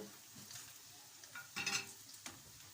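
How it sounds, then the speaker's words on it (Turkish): Sigara böreği fry in hot oil with a soft, quiet sizzle, joined near the middle by a brief burst of clinking and scraping from a utensil in the pan. "Kıpkırmızı nar gibi kızarıyorlar arkadaşlar."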